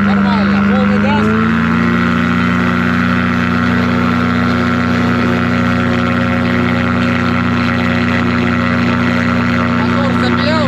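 A motor glider's engine runs at full throttle, a loud, steady droning roar that settles in after a brief rise in pitch near the start and holds unbroken to the end.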